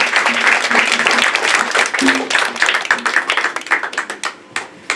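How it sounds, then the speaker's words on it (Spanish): A lively burst of hand clapping from a gathered crowd at a quinceañera outside the celebrant's home, dense and close at first, then thinning into scattered claps, with voices mixed in. "¡Fuerte los aplausos!"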